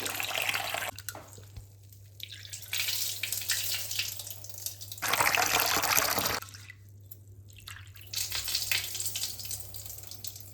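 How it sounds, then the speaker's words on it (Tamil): Moong dal being rinsed in a kitchen, with running water splashing and swirling in repeated bursts, close and fairly loud, separated by short quiet pauses. "ஃபஸ்ட்டு நம்ம பாசிப்பருப்பை 2 தடவை களைஞ்சி ஊற வச்சுக்கலாம்."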